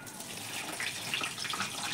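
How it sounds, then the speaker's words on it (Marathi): Soaking water drains off wheat grains in a home kitchen, a steady close trickling and splashing wash of liquid that runs continuously throughout. "आता हे पाणी नितरून घेते स्वच्छ."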